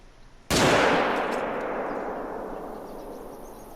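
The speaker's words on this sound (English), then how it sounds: "this gun is loud." A single loud, close .300 rifle shot in the hunting game theHunter: Call of the Wild, set on the Silver Ridge Peaks reserve. It cracks sharply and then rings out in a long, slowly fading reverberant tail, with no voices.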